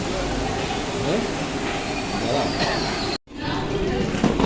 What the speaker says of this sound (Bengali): ওই যে আমাদের ট্রেন ঢুকছে